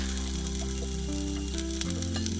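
Pine nuts sizzle steadily in a hot pan while being stirred, aiming for a pale golden toast for vegan Catalan spinach; a continuous close frying hiss with a low steady hum, no talking.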